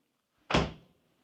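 A single close magnetically latched door shuts with a quick solid thunk, a brief clap that fades out fast in a quiet room of a villa on Koh Samui.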